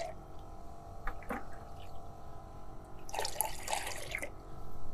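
Water pours into a banana peel solution for feeding rose plants, with a few faint drips first, then a close, bubbling pour for about a second.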